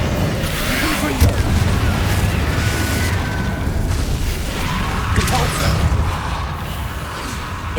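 The Confringo blast curse in Hogwarts Legacy goes off in booming explosions, with two heavy bursts rumbling over a continuous low roar of in-game ambience.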